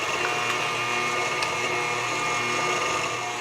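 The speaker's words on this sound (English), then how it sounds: "this in the mixer and let this get creamed up" Stand mixer creaming coconut cake batter, a steady, loud whirring motor drone with a constant pitch and no pauses.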